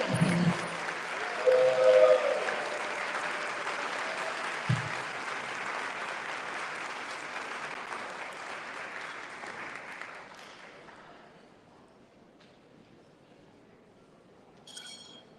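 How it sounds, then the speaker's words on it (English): An audience at an awards event applauds loudly, a dense wash of clapping that builds, peaks early, then slowly thins and fades away over several seconds until near silence. "Let's give another big round of applause."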